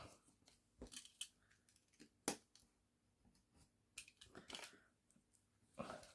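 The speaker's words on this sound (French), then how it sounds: "Et avec le cutter, je coupe." A craft cutter knife slices through paper while making a scrapbooking album page, giving scattered short, crisp scraping strokes with quiet gaps between them, close to the ear.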